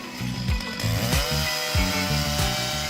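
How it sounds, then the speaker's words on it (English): A Stihl MS 881 chainsaw cuts into an old teak tree, its engine roaring loud and close with repeated surges in pitch as the chain bites and revs between cuts. "An old teak tree is cut with a Style MS 881 chainsaw"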